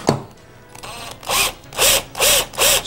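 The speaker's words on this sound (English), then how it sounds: "I'm going to go ahead on the fin butts of my fins and drill them out" A small power drill whirs in four short bursts, each rising and falling in pitch as it bites into clear plastic fishing-lure fins, after a faint click.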